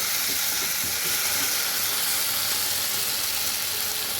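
Water poured into a frying vegetable curry of potato, pointed gourd and cauliflower, a loud, steady hiss and sizzle that fills the whole moment without pause.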